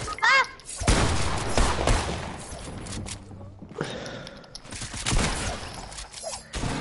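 SMG fire in a shooter video game, rapid bursts of sharp gunshots in clusters with brief pauses, loud and close, with someone talking between the volleys.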